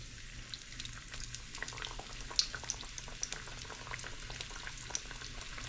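Catfish nuggets fry in hot oil at 375 degrees, a steady close bubbling sizzle with scattered small pops and crackles throughout, with no talking.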